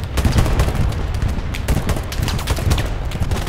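Dense gunfire in the war game Hell Let Loose, loud and close, with rapid overlapping shots and bursts packed tightly across the whole moment, no talk over it.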